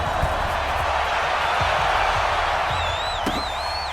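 A roaring stadium crowd in the Madden 20 football video game before a matchup with the Buffalo Bills, a loud continuous wash of cheering with scattered thuds and a brief whistle-like tone near the end.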